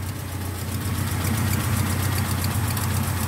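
A 1958 Sunbeam Rapier engine idles steadily, a close, even low rumble with a faint regular tick, holding constant with no revving or speech.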